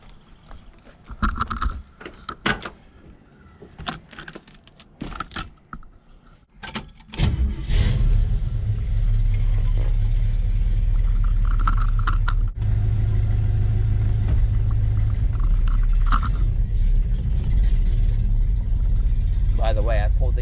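A 1971 Pontiac Ventura fitted with new headers starts driving off, its engine settling into a loud, steady low rumble after several seconds of clicks, clatter and a brief voice.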